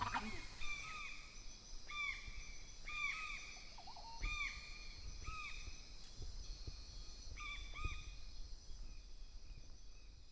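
Birds call repeatedly in the pre-dawn dark on the outskirts of Tikal, a series of evenly spaced, owl-like notes roughly once a second, moderately distant over a low steady background.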